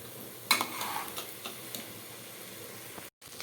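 Spoon stirring rice with masala in an oiled pan for Telangana-style bhagar rice, a soft scrape and clink of utensil on pan over a low steady sizzle, close and fairly quiet, with no talking.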